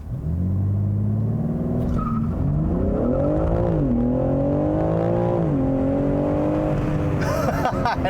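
A 2021 BMW M3 Competition engine revs hard and climbs through several gears, each shift dropping the pitch before it rises again, loud and close throughout.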